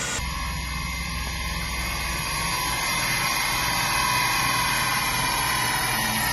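Loud, steady car engine running at high revs on a dynamometer, a dense continuous roar with a strong low drone and hissy upper noise, holding level throughout without pauses.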